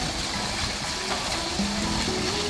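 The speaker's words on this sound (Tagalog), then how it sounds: "Yung dragon bumubugan ng tubig." Water splashes and gushes steadily from a dragon fountain in a park, a constant wash of noise with faint tonal sounds mixed in.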